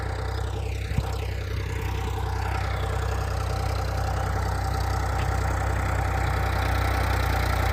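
A tractor engine runs steadily while millet is being sown in a field, a constant low mechanical drone holding level throughout with no speech.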